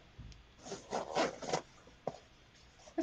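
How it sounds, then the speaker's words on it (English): Short scratchy rasping bursts of a vest zipper being pulled, several quick strokes close by, then a couple of sharp clicks near the end. "It's got a nice sound to it, zippers."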